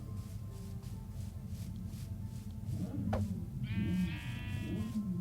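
A sheep in a video game lets out a single clear, wavering bleat partway through, heard alone over a steady low background rumble and soft repeated ambient sounds.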